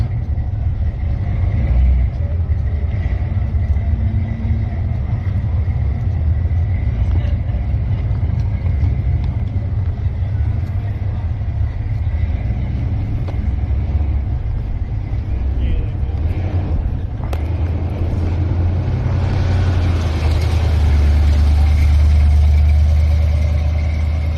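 Deep, throaty engine rumble from old cars, including Ford Falcons, at a nostalgia drag racing event at Willowbank Raceway, Australia, fills the air continuously, swelling louder near the end, with a hint of voices in the background.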